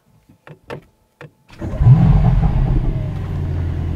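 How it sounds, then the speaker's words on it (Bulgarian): A few soft clicks come first, then the V8 of a Mercedes-AMG GT 63 S E Performance fires up with a sudden loud, deep rumble that settles into a steady, close idle. "ако не ви харесва и искате да чуете V8 двигателя, защото все пак той е на изчезване малко или много"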